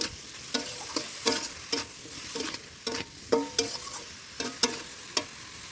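Yardlong bean chorchori fried and stirred in a pan, the utensil scraping and clacking in a quick uneven rhythm over a soft continuous sizzle, close and fairly quiet.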